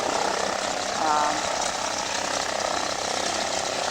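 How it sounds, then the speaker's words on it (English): A small Cessna plane taxis in, its propeller engine giving a steady, fairly close broadband drone that holds for the whole stretch. "This is the smaller plane of the fleet pulling in here."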